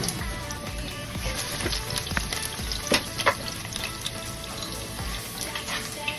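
Garlic frying in oil in a pan for an ampalaya and mushroom dish, a steady, dense close sizzle and crackle running throughout with a few small pops.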